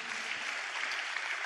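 A church congregation claps in praise, a soft, even wash of applause heard from a distance.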